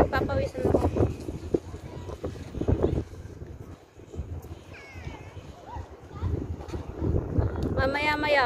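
Wind at a beach on a day out with friends buffets the microphone in steady rumbling gusts, heard under someone talking casually through most of the stretch.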